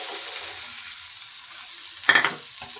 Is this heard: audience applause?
no